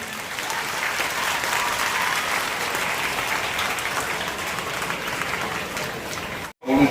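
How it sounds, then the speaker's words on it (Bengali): Sustained applause from an outdoor crowd at a forest festival tree planting ceremony, steady and loud for several seconds before cutting off abruptly near the end. "একটু জোর করে হাততালি"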